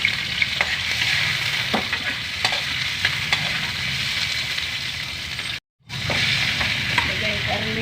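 Pork trotters sauté in a pan with a steady, loud sizzle, broken by scraping stirs and clinks of a utensil, and a short dropout of near silence before the frying resumes.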